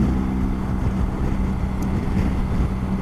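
A BMW R 1300 GS motorcycle cruises in sixth gear, a steady, loud drone of engine and rushing wind holding level throughout with no breaks.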